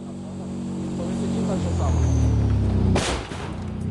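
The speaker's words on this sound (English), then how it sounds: "With this machine, the sound of a running engine" A tank engine runs with a deep, steady low rumble, building slightly louder, then a sharp loud burst near the end.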